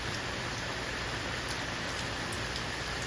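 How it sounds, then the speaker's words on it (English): Steady rain falls outdoors around tropical Monstera plants, a dense, even hiss with soft patter of drops continuing without pause and no voices. "I don't care what time it is, you hear that rain."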